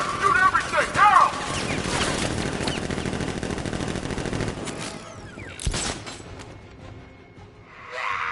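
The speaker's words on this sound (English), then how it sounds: "Guards! Open fire! Shoot everything! Now!" Guards open fire in Batman: Arkham Knight: a loud, sustained burst of rapid machine-gun fire with whooshes and crashes, tapering off before a final sharp impact, while voices speak over the combat.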